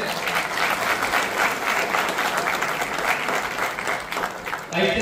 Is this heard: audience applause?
yes